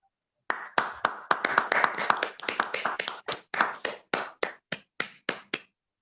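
About twenty sharp, separate claps ring out close by in an uneven rhythm, the spacing widening toward the end, with no talking.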